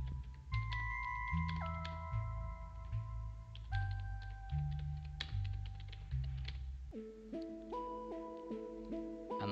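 Computer keyboard typing with quick, light key taps in short irregular bursts. A steady backdrop of layered electronic tones plays throughout, and no one speaks.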